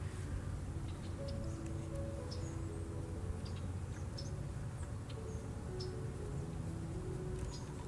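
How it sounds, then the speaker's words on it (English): Faint, scattered bird chirps ring out outdoors over a steady, even background hiss, with no talking. "I'd paint all the bird sounds that I'm hearing out here"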